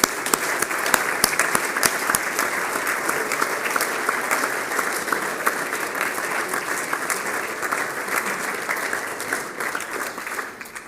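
Sustained audience applause fills a school end-of-term assembly hall, a dense steady patter of many hands clapping at fairly even loudness for about eleven seconds, easing slightly near the end.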